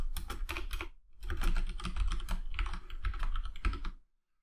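Close, steady clatter of a computer keyboard as code is typed, rapid key presses in dense bursts with a short pause early on, then silence at the end.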